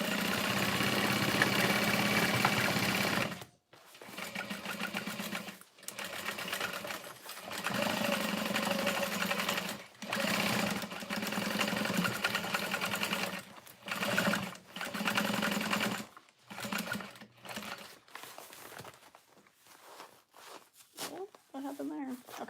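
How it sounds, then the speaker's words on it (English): A sewing machine back stitches a Freesia fold-over bag near the D-ring and accent panel, running in steady close bursts broken by short pauses, with a voice sometimes underneath. "I'm getting close to my D-ring, so I'm back stitching close to the accent panel"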